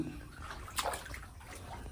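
Water fills a flooded cave at Kukke Subramanya, a faint, continuous wash of flowing and sloshing water, with no one talking.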